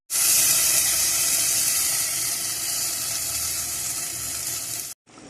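Water pours steadily from glasses into a pot for Filipino sinigang sa miso, a continuous bright splashing rush lasting about five seconds before cutting off, followed by a brief softer trickle.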